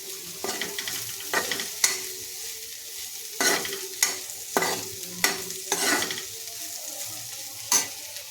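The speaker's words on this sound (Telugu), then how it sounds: "తిప్పేద్దాం" Bitter gourd pieces frying in a kadai with salt and turmeric are stirred, producing about nine distinct spatula scrapes at an irregular pace over a steady close sizzle, with no speech.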